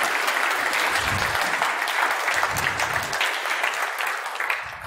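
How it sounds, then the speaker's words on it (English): A conference audience at a BSides Munich security event gives the volunteers a steady round of applause, dense and sustained clapping from a large crowd that tapers off slightly at the end. "Can I have a round of applause for all the volunteers"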